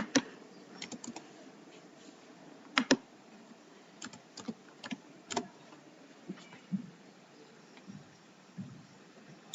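Light, irregular tapping of keys on a computer keyboard as a test ID is entered, with scattered sharper clicks and short pauses, close and quiet with no talking.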